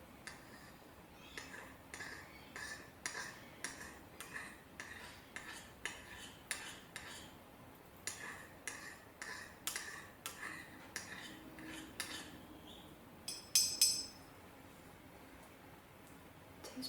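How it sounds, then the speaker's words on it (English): Metal teaspoon clinking softly against a container while measuring olive oil, a series of small close taps in an uneven rhythm, quiet and alone, with a brighter brief rattle near the end. "we start with a little bit of olive oil here, a teaspoon of olive oil"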